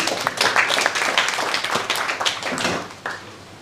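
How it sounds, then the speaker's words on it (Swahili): A church congregation at an investors day gathering in Malindi claps together, a fairly loud, close burst of overlapping handclaps that carries on throughout. "Haya, pigia baba yetu makofi"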